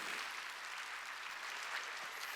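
Congregation applauding during a Wednesday evening church service, a steady broadband patter of many hands clapping at moderate distance, continuous and fairly even throughout with no speech over it.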